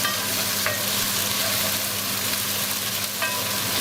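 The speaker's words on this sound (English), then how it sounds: "Followed by my garlic. of course, we're gonna give it a nice stir." Garlic frying in a pan as it gets stirred, a dense close sizzle running without break, with a couple of faint utensil scrapes and no talking.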